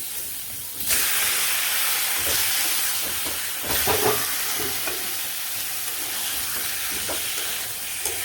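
Spice paste (masala) fries in a pan for a meat curry, giving a steady close sizzle and hiss with occasional stirring scrapes throughout, no voices.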